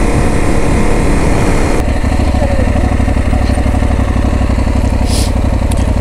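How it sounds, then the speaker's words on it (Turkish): Motorcycle riding along a scenic back road between İzmit and Şile, engine droning steadily and close with a continuous mechanical rumble and clatter throughout, alone without voices. "Birazcık da motosikletle gezmek istedim."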